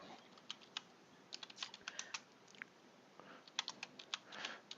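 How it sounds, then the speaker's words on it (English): Typing on a computer keyboard, a quiet, irregular patter of key clicks in short bursts, with no voices. "I'm typing over on Twitch."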